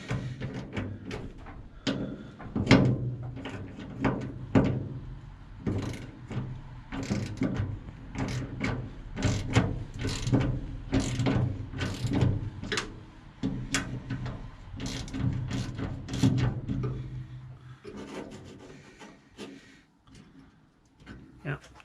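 A ratchet loosens the bonnet bolts on an MGA 1600 during restoration, giving rapid rhythmic clicking in close-up bursts with short pauses, while someone talks over it.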